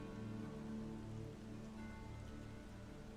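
Steady rain falling at night in a video game, a soft, even hiss with no voices, faint and continuous throughout.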